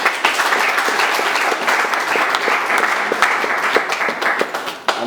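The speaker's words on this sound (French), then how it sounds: "Vous pouvez vous applaudir." Audience applause at the closing of a training session, dense sustained clapping with many distinct sharp claps, fairly close and loud throughout.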